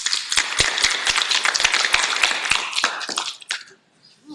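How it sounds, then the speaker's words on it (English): Clapping for a speaker at a nonprofit lightning-talk session: a small group of hands claps in crisp, distinct, close strikes that thin out and stop near the end, leaving brief quiet. "Let's give her a big round of applause."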